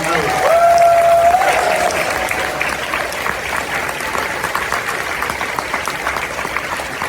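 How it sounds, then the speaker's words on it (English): A crowd at the ConFuzzled 2025 convention closing ceremony claps steadily in a continuous wash of applause, loud and even throughout, with a brief whistle-like tone early on. "Please, another round of applause for all of the artists who just doodled and drew."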